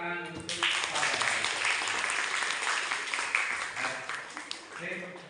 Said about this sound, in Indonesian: Kita beri tepuk tangan untuk Palen.